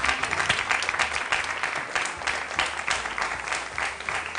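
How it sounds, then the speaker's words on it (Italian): A studio audience applauds on the Italian TV cooking show Cuochi e Fiamme, a dense, steady burst of clapping throughout. "signori, applauso, bravi."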